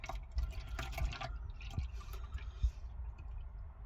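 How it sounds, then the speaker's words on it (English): Liquid pours from a 1.5 litre bottle into a cup, giving a splashy, gurgling trickle that starts loud and tapers off, with a couple of low knocks. "So I'm pouring it in this cup."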